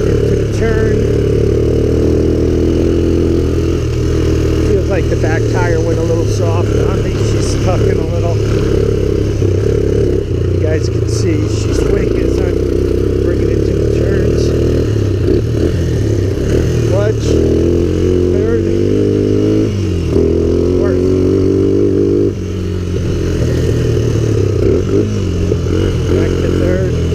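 Honda Recon 250 ATV engine running loud and close while riding, a steady mid-pitched drone that rises and falls through gear changes, with rattling clatter and someone talking over it.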